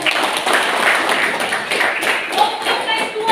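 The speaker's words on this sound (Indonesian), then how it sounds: "tepuk tangan untuk teman kita" Classroom applause for a classmate after a presentation, a steady wash of many hands clapping that runs for a few seconds at close range with no pauses.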